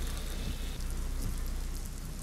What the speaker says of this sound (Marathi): अशात सकाळपासून पावसाने जोर धरलेला आहे।